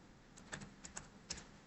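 A few soft, sparse keystroke clicks, irregularly spaced, over a low steady background hum.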